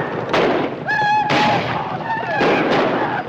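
Gunfire in a Western film battle near wagons, loud bursts at the start and again near the end, with shouted voices between the shots.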